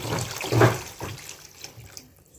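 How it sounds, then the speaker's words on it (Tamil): Water is poured into a fish curry, a brief splashing gush near the start followed by softer trickles and faint liquid sounds, close and quiet. "இப்போ இதில் தேவையான அளவு தண்ணி சேர்த்துக்குவோம்."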